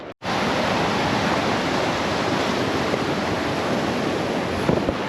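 Rushing water beneath a bridge over a mountain stream near Big Pine Lakes along Highway 395, a constant broadband roar, loud and close, holding steady after an abrupt start with no voices.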